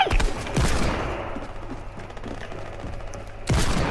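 Gunfire from a hand cannon in Fortnite, with bursts of loud shots at the start and again near the end over a busy, continuous game soundscape.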